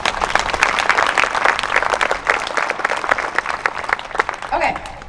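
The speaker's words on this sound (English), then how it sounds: "So let's give them a round of applause." Sustained applause from a school choir concert audience, dense steady clapping filling the whole stretch before thinning slightly at the end.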